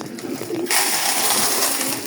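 Pigeons coo softly and low, then a loud hiss of rustling noise rises and covers them for the rest of the moment.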